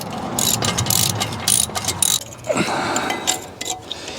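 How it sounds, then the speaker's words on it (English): A wrench ratchets down brake bolts on an Audi TT. Several close bursts of rapid pawl clicking alternate with brief pauses, clear and alone in a quiet workshop. "Do that up nice and tight. I will torque that down."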